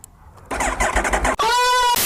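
An Aprilia RSV4 RR motorcycle heard up close: a short starter whir, then the engine catches and rumbles unevenly, a brief dip, and it settles into a loud, steady high idle.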